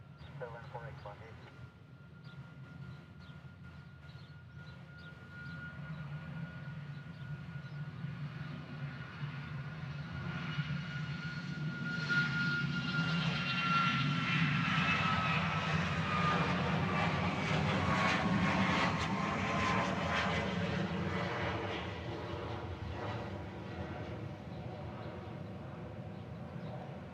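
A Southwest Boeing 737 MAX 8 departing Honolulu airport, a jet roar that swells loud over about ten seconds, holds, then begins fading, with a rising engine whine, tower radio chatter and people talking.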